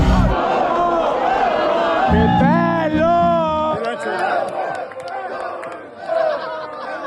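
Festival after-party crowd roaring, cheering and singing together near a stage, a loud massed chorus of voices with shouts rising over it throughout.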